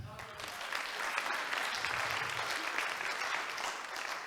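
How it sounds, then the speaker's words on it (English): A room of Rotary club members applauds at a magic show, a dense steady wash of clapping sustained for several seconds at moderate loudness with a few voices murmuring underneath. "You can go back and sit down with a round of applause."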